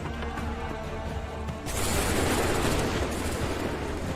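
Musket volley in Assassin's Creed III: after a moment of quieter battlefield sound, a sudden loud roar of many muskets firing together bursts out and rolls on as a dense, sustained crackle of gunfire.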